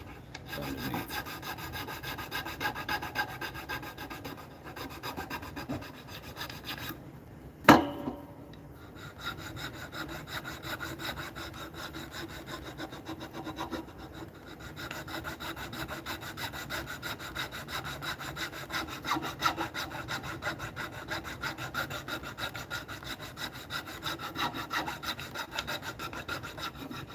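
Needle files rasp on wood, putting a tapered bevel and rounded finishing touches along a carved edge, as close, quiet strokes scrape in a steady back-and-forth rhythm, with one sharper knock partway through.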